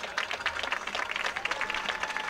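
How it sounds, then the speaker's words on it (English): Crowd at a summer collegiate baseball game, Walla Walla Sweets vs. Kamloops Northpaws, breaks into steady applause and clapping for an injured player getting back to his feet, a dense sustained ovation. "An ovation from the crowd"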